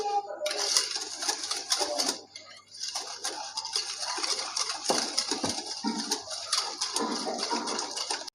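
Close, continuous scraping and clinking as sugar is mixed into doughnut batter in a bowl, brisk repeated strokes with a short pause early on and no voice over it.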